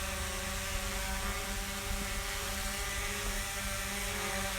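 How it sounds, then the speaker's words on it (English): An Autel EVO quadcopter drone hovers with a steady, even whir and a layered motor hum, constant in level with no speech. "Really darn quiet and a very cool looking drone."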